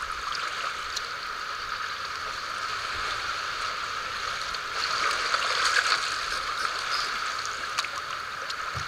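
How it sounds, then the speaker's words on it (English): Boat wake waves roll and slosh beneath a kayak on open water during a kayak camping trip, a steady wash that swells slightly louder midway, with no talk. "I got some boat waves coming in here right now."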